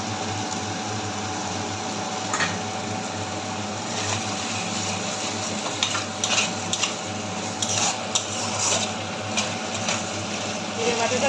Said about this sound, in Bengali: মশলা ভাজা হয়ে আসছে মাংসটা দিয়ে বসাবো তাই মাংসটা দিয়ে দিলাম